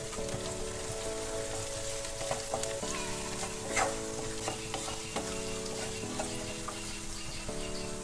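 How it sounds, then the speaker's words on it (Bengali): Ground coriander and cumin fry in a pan while being stirred together, producing a steady, close crackling sizzle with soft scraping strokes over a low tonal hum, with no talking. "এবার আমি এগুলোকে ভালো করে মিক্সড করে ফ্রাই করব"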